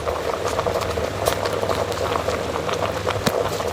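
Goat head curry with tamarind juice simmering in a pot, a dense continuous bubbling and crackle with small pops throughout, fairly loud and close.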